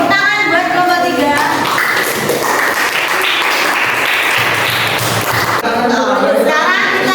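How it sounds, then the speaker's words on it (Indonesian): Classroom applause for a student group, a dense burst of clapping from a roomful of pupils, loud and sustained, with voices briefly heard at the start and end. "Tepuk tangan buat kelompok 3."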